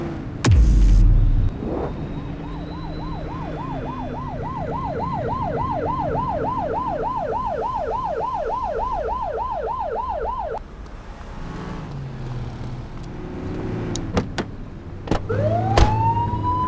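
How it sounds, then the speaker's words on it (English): A police car siren sounds in The Precinct video game, wailing in a steady rapid cycle for several seconds and then cutting off, with a brief rising whoop near the end. "You're only meant to use the siren in emergencies."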